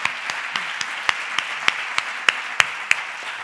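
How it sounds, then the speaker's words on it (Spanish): An audience at an acoustic concert applauds in a steady patter of clapping, with a few sharp, louder claps standing out from the crowd at a regular pace. "Este que es mi primer aplauso es para vosotros."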